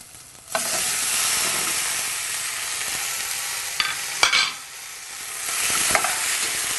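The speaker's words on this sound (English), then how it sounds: "You just want to mix that in for 30 seconds and carefully add in your tomatoes." Tomatoes tipped into a hot pan and stirred for a tomato soup, a loud close sizzle that bursts up at the start and keeps going, broken by a few sharp spatula scrapes and knocks.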